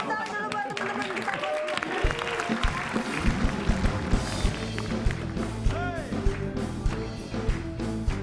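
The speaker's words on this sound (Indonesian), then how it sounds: "Berikan tepuk tangan dulu buat teman-teman kita." A studio audience claps and cheers in a dense, ongoing burst of applause, with voices and rustling mixed into the noisy clatter.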